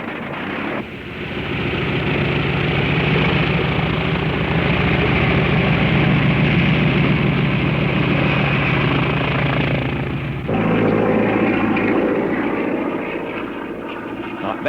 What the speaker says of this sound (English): Lindbergh climbs into the cockpit of a current Navy carrier fighter